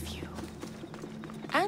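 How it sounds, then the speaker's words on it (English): A horse's hooves clip-clop quickly in the video game Assassin's Creed Odyssey, a run of close hoofbeats followed by a short whinny-like cry at the end. "We'll call the horse, obviously. Get us there much quicker."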